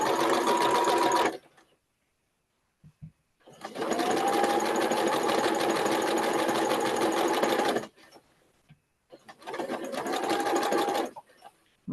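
A sewing machine runs in three bursts, each a fast steady mechanical whir of several seconds, separated by short pauses with faint clicks.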